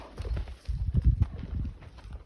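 A horse shifts its hooves while reacting to a cow whip during mounted groundwork, giving a cluster of close, uneven clip-clop steps on firm ground, loud and alone with no talk.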